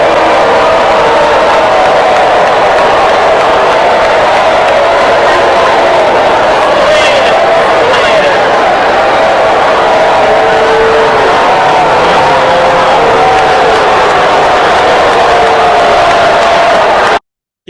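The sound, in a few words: crowd booing at a Kamala Harris rally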